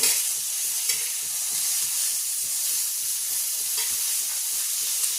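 Chillies frying in a pan with onion, grated coconut and tomato for a Pandharpur bazaar amti, a steady loud sizzle with a rhythmic scraping stir running underneath throughout.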